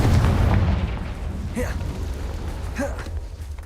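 Confringo spell blasts in the Hogwarts Legacy video game, a booming explosion at the start followed by two quick whooshing bursts.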